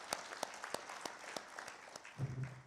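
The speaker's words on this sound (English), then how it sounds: "I would like us to give a round of applause for the entire dais" Scattered audience applause at an African conservation agriculture congress session, soft and distant, with individual claps popping out irregularly before a brief low rumble of movement near the end.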